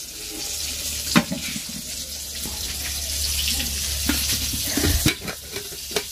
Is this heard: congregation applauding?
no